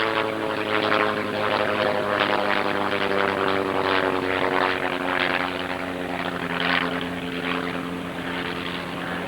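The nine-cylinder engine of a radio-controlled model Camel airplane drones steadily overhead, running on only about seven cylinders, with a rough rising and falling buzz as it circles nearby, continuous throughout.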